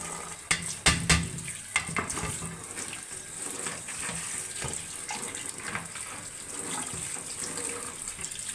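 Cane shoot greens are washed by hand in water: steady running and sloshing water with a few sharper splashes early on, close and continuous, with no voices.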